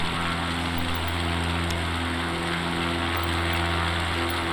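Small light aircraft flying low over downtown Northampton, Massachusetts, its piston engine and propeller droning steadily and loudly from inside the cabin, a constant unbroken hum with no talk.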